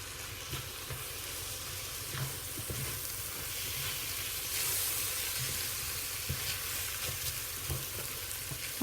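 Tomato with cumin, pepper, sweet paprika and salt frying in a pan, giving a steady close sizzle while a utensil stirs through it with soft, irregular scraping taps and no talking.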